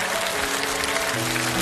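A concert audience at a live televised music show bursts into dense, sustained applause, loud and continuous, with soft musical tones running beneath the clapping.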